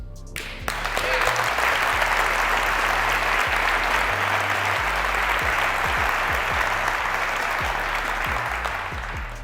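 An audience bursts into loud, sustained applause that fills the room, with scattered claps and cheers continuing steadily for several seconds.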